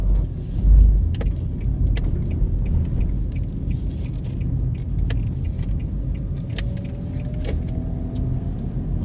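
Car driving along Dunrobin Avenue in Kingston, Jamaica: a steady, loud interior engine and road rumble with faint ticks and small rattles throughout, no talking.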